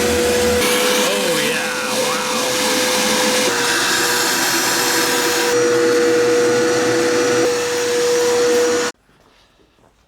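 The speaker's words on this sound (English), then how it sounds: "We have a shop vac contraption." A shop vac contraption roars with a steady, loud whine close by, running continuously before cutting off abruptly near the end, with a brief exclamation from people over it.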